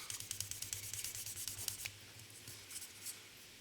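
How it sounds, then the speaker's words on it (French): A cloth rubs a chrome surface to polish it, a quiet close scrubbing with quick rhythmic back-and-forth strokes that slow and soften toward the end. "Là, je frotte un peu trop."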